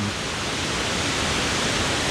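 Kroeng Krawia waterfall flows in a constant, dense rush of water, loud and unbroken throughout.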